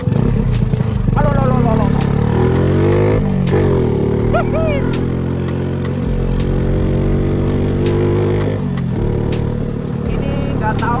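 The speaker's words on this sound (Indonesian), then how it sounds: "Ini motor Astra Grand Bulus." A carbureted Astra Grand motorcycle engine runs steadily at close range, its mid-pitched drone shifting slightly in speed over several seconds, with someone talking over it throughout.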